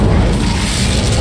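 A fiery Incendio spell blast from Hogwarts Legacy, a loud close boom with a roaring burst that fills the moment.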